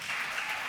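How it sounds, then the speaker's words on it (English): Applause from a hackathon audience at a closing ceremony, a short, steady burst of clapping filling the hall for a finalist team. "So give them another round of applause."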